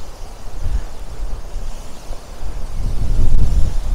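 Wind gusting by a cloudy seaside with turbulent sea, a steady low rumble that swells and grows louder toward the end, no voices.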